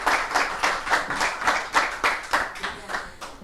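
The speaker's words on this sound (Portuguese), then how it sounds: "Uma salva de palmas de novo para a Anita, pessoal." Rhythmic group clapping at an engineering expo, evenly paced beats of hand claps from a nearby audience, fairly loud and unaccompanied by talk.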